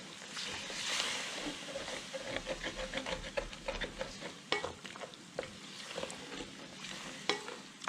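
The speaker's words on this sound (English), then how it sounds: "Now we'll add the beef stock. I'm going to raise the heat just a little bit" Beef stock simmers in a pan of picadillo de vainica over slightly raised heat, with soft sizzling and bubbling and a few light stirring scrapes and taps, fairly quiet and close.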